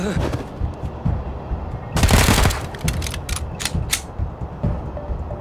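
Gunfire in the video game Wasteland 3: a loud, dense burst of shots around the middle, with scattered sharper single cracks after it, set over a busy game soundscape with a voice speaking faintly.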